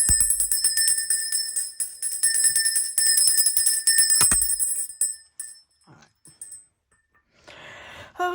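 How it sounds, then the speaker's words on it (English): A bell rung repeatedly, its bright sustained ringing tones layered and loud for about five seconds before dying away into quieter scattered sounds and a brief rustle near the end. "Let me ring the bell real quick."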